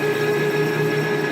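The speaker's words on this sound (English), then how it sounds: "I actually chucked up the lathe" A lathe spins a cast axle housing for a custom rear differential, holding a steady, loud mechanical whir with a constant tonal hum and no pauses.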